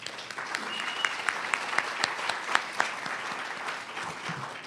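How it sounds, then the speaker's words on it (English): Steady applause from an audience at a business challenge event fills the clip, with a few sharper individual claps standing out against the wash of clapping. "Let's give him a round of applause."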